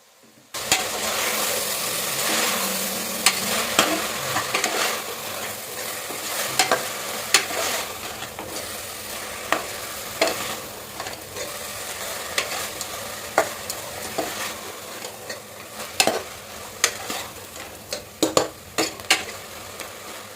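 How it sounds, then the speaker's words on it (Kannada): Sprouted mixed gram and chopped vegetables frying with salt in a pan for sprouts sambar, a loud continuous sizzle broken by frequent sharp spatula scrapes and clicks against the pan, no talking. "ಕಾಳು ಫ್ರೈ ಆಗಿದೆ ತರ್ ಕಟ್ ಮಾಡಿರೋ ತರಕಾರಿ ಹಾಕಿ ಉಪ್ಪು ಹಾಕಿ ಫ್ರೈ ಮಾಡ್ಕೋತಾ ಇದ್ದೀನಿ"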